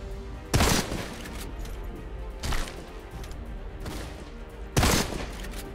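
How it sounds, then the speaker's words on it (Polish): Gunfire in the first-person shooter Deadfall Adventures, three separate sharp shots spaced a couple of seconds apart over a quieter game background, each with a short tail. "Nie, słyszę jeszcze strzały, ale nie widzę gościa."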